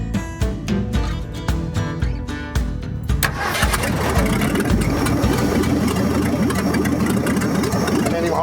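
A buried 1965 Ford F100 engine with no exhaust fitted cranks in a quick rhythmic series of turns, then catches and settles into a loud, steady, rough idle that runs on alone.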